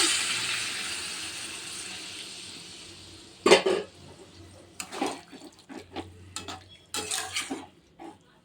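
Warm water poured into a pan of fried vegetables (pumpkin charchari) in a home kitchen: a steady broad hiss fades, then a sharp splash and a run of clattering bursts from pan and utensil, close and fairly loud.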